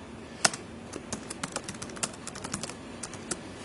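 Steady typing on a computer keyboard while writing Python code, a close run of light plastic key clicks in an irregular patter with a couple of sharper taps, no voices.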